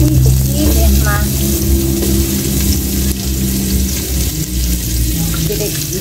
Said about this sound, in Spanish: Voy a poner el whisky.